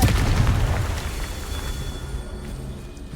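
A Confringo fire-blast spell detonating in Hogwarts Legacy, a deep booming burst that fades away with a lingering rumble over roughly three seconds.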